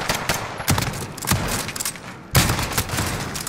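Rapid bursts of video game gunfire in a multiplayer shooter, crackling in quick repeated volleys with a heavier blast near the middle, steady and close throughout with no talking.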